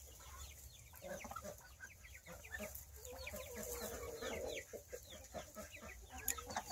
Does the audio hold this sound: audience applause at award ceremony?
no